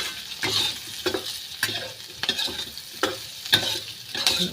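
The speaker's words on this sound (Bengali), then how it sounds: "এবার ভালো করে মিশিয়ে নিচ্ছি।" Vegetables with salt and turmeric stirred in a frying pan for chili chicken, a rhythmic series of about eight scraping strokes over a soft sizzle.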